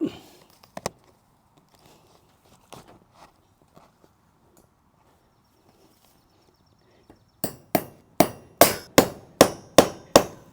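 Galvanized fence staples driven with a hammer into a predator-proof chicken coop hinge: about eight sharp, loud, evenly spaced blows near the end, after quieter scattered knocks and handling noises.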